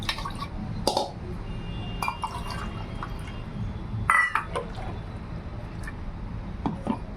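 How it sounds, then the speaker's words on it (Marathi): Water trickles and drips steadily into a cooking pot for bhagar amti, with a few brighter splashes and clinks standing out from the continuous pour. "आपल्याला पातळ बनवायची म्हणून अजून पाणी टाकते."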